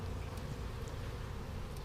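Honeybees from a package bee colony hum in a dense, steady buzz close by, with no voices.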